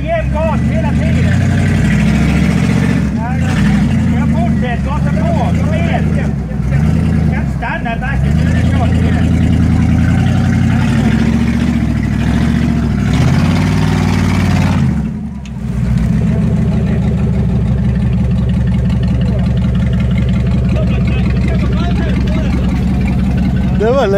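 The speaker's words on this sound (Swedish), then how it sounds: "Och så gasar du jämn gas hela tiden." A Jeep's engine runs steadily under load while driving off-road over stumps, a mid-to-low drone with slight shifts in pitch and a brief dip near the middle, and people talk over it throughout.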